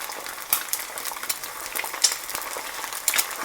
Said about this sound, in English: as soon as I crack the egg in the pan